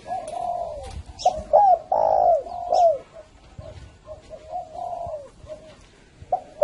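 Spotted doves coo inside a huge 300-square-metre aviary, giving clear, close, rounded coos in a repeating phrased rhythm with short pauses and faint chirps behind them.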